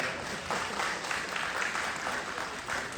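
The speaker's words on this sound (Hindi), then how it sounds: "तो मेरे बड़े भाई के लिए, गुड्डू भैया के लिए एक जोरदार ताली हो जाए।" An audience at a live music show gives a sustained round of clapping, a dense, even wash of applause with no talking.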